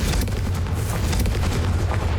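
Confringo, a fire explosion spell cast in the video game Hogwarts Legacy, erupts as a loud, booming blast with a dense, rumbling roar that holds strongly for about two seconds.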